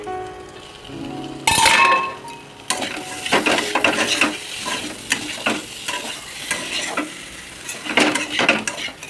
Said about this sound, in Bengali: শাকগুলো ভাজছি